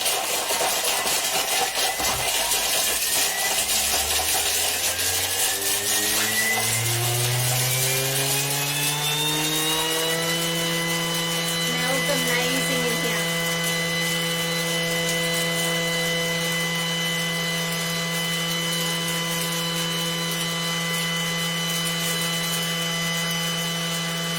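A Thermomix blending chicken curry paste spins up at speed 10, its motor whine rising steeply in pitch over the first ten seconds, then holding a loud, steady drone alone.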